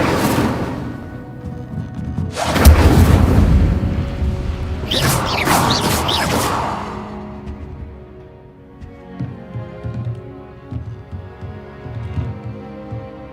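An Incendio fire spell cast in the video game Hogwarts Legacy: two loud, roaring whooshes of flame with a deep rumbling low end, followed by a quieter humming, ringing tail.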